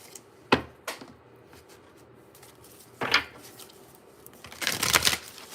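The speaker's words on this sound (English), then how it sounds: "I'm so aggressive with my shuffling." A few crisp, rustling bursts of tarot cards being shuffled, spaced apart with quiet gaps, the last one longer and louder, close by.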